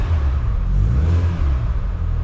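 A cold Renault Clio 182 engine running with a steady low rumble, rising briefly in a light rev before settling, close by with no talking.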